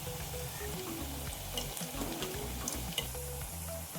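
Onion bonda balls deep-frying in hot oil, a steady bubbling sizzle with crackling pops throughout, close and fairly loud, no voices.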